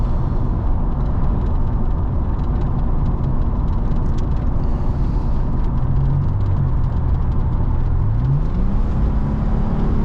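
A 2002 Chevy S-10 Blazer Xtreme with 86,000 miles accelerates hard as the transmission kicks down, its engine roaring loud and steady from inside the cabin, the pitch sweeping upward near the end.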